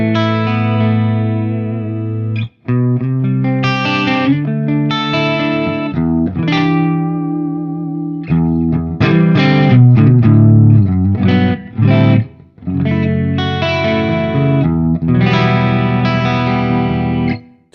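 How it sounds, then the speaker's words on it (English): A clean electric guitar played through a Fractal VP4 with a pitch-shift chorus effect and reverb rings out in strummed chords and melodic phrases, loud and shimmering, with brief pauses between passages. "I've got some pitch shifts for a kind of like a chorusy style effect here, and just some of that reverb"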